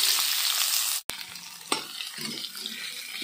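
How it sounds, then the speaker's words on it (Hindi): Onions fried in hot oil after chicken, a loud crackling sizzle that cuts off briefly, then returns softer with spatula scrapes and sputters, with no talk. "अब तेल में हम प्याज के भून लेते हैं।"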